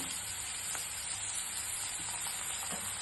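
Onion frying in a pan for a traditional Malvani leafy vegetable dish, with cooked dal going in, giving a steady close hiss and sizzle throughout, no talk.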